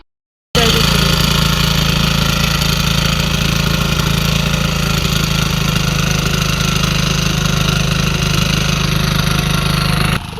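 A tractor engine runs steadily in a rice paddy field during transplanting, a loud, close, continuous low mechanical drone with a rough idling knock that holds for the whole stretch.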